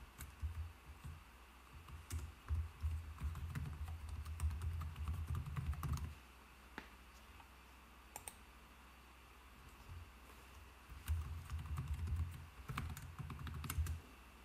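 Password being typed on a computer keyboard during sign-in, quick soft clicking keystrokes in bursts with a short pause between, close and fairly quiet, no talking.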